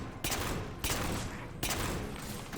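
Sniper fire in a Halo 4 battle, three sharp loud cracks spaced about a second apart, each followed by a ringing tail over a steady background of combat noise.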